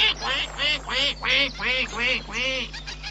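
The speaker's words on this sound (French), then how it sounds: "Le bruit attira une vieille cane qui nageait au bord de la mare." An old female duck swimming at the edge of a pond quacks six times in a steady, even rhythm, each call loud, close and nasal.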